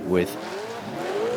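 A BMW race car at the Goodwood Festival of Speed, said to produce 800 horsepower from a turbo engine, roars past close by with a rising then falling engine note over a brief moment, with a voice talking over it.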